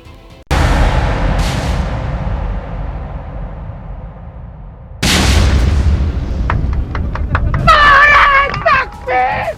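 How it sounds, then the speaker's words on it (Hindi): A loud blast hits suddenly, then rumbles and decays for several seconds before a second explosion bursts out, followed by crackling and excited voices. "धमाका होता है, धुआं उठता है"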